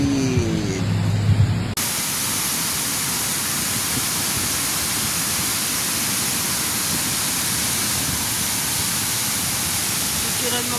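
Waterfall seen on a rainy hike in Patag, Silay City, a steady, loud broadband roar of falling water that holds constant after a brief quieter opening with some voices.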